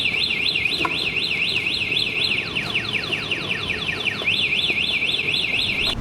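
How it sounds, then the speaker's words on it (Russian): A loud anti-theft alarm on a Citycoco Skyboard BR70 electric scooter wails in a rapid rising-falling siren pattern, briefly switching to a series of descending chirps before the warble resumes. "Электроскутер Ситикока Skyboard BR70 оснащен системой звуковой сигнализации."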